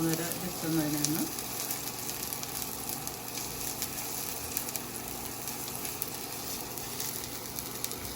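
Ginger and garlic frying in a pan until brown, a steady close sizzle with faint stirring scrapes and a brief low voice near the start.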